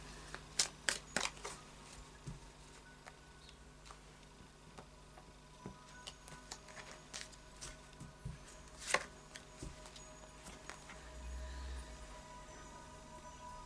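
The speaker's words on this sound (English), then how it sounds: "And the final shuffle of the Oracle of Visions." Soft, irregular shuffling of an oracle card deck with light papery ticks and flicks, fairly quiet and close, no voices.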